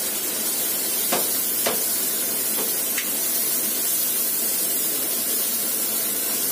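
Sakura shrimp and Chinese sausage frying in a hot wok, a steady broadband sizzle and hiss running throughout with a few brief sharper crackles and spatters near the start.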